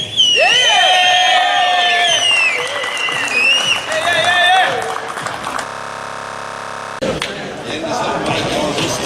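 A crowd at a sports league awards ceremony bursts into loud shouting and cheering over clapping. A stretch of steady electronic hum follows, then noisy clapping picks up again.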